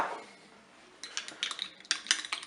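A spoon stirring seasoned chicken in a dish with curry, crème fraîche, salt and pepper, a soft start followed by a series of close, light metallic clinks and scrapes.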